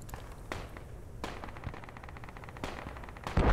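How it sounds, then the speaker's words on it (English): Bursts of M4 rifle fire in a military video game battle around bunkers, sharp repeated shots at a short distance with scattered footsteps and a louder burst at the end. "I hear M4 fire above us"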